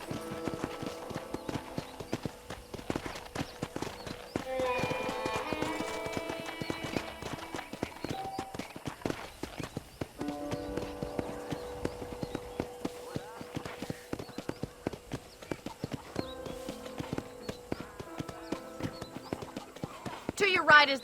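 Horse hooves clip-clop steadily during a ride in the video game Red Dead Redemption, with a rhythmic mid-level gait running under game music and a character talking throughout, and an occasional snort or whinny.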